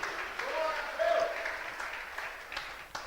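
A church congregation applauds the Lord during a Portuguese-language sermon, moderate scattered clapping with voices calling out over it, swelling briefly and then thinning.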